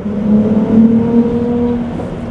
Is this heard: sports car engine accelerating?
yes